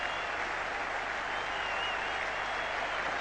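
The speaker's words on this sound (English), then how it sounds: "they're going to applaud him all the way in, a reception he so thoroughly deserves" A cricket crowd at Old Trafford during the 1981 England versus Australia Test gives sustained applause for a departing batsman, a continuous dense roar of clapping from a large packed stand, steady and even throughout.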